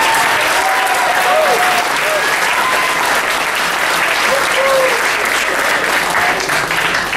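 An audience at a university politics week debate on marriage equality claps steadily and loudly for the full stretch, a dense wash of applause with no pauses.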